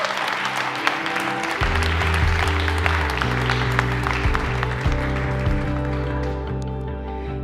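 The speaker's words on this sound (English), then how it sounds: "So also really give them a big round of applause." An award ceremony audience on sustainable tourism in Cascais claps in a sustained round of applause, dense and steady, which thins slightly toward the end.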